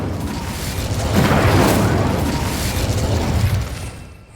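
The Incendio fire spell is cast in Hogwarts Legacy, producing a loud whooshing burst of flame that swells, holds roughly two seconds and then fades away, with no voice over it.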